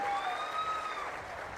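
Audience applause at a public welfare event in Pamarru, addressed by Chief Minister Chandrababu, forming a steady, dense wash of many clapping hands with a thin whistling tone running through it.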